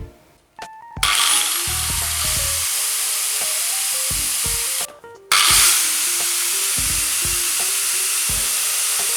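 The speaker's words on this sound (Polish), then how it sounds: "Dużą szlifierkę." A large angle grinder powered from an Andes 1500 portable power station spins up with a loud, rough hissing roar, pauses briefly, then starts again and runs on strongly.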